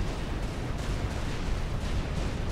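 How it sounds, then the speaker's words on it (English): Plasma cannon fire in the strategy game Supreme Commander: Forged Alliance, a dense, continuous rumble of booming impacts and blasts with no distinct gaps, loud and unbroken throughout. "These guys tanking plasma cannon fire."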